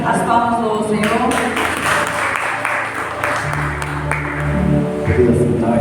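A church congregation claps together during a worship service. The dense, steady applause runs beneath a voice talking and singing over it.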